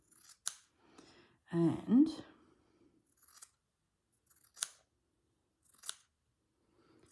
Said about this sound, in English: Let me just do a cut down here.